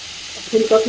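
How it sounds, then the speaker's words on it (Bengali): Slices of pumpkin fry in hot oil in a home kitchen, a soft sizzle that swells near the end with a couple of brief clinks or stirs. "কুমড়ো ভাজা করছে"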